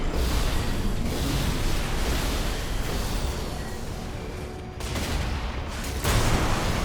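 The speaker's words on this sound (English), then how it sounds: "I have a bad feeling these plasma missiles are going to hit me." Plasma missiles striking a mech in Armored Core 6, a dense continuous roar of blasts and impacts with brief swells and a heavy surge near the end, loud and close with no talking.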